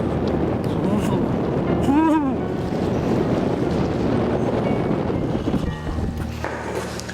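Strong wind gusts buffet the microphone outdoors on a cold November night near a coastal lighthouse and fort, a steady low rumble with a brief tonal whistle, and someone speaks.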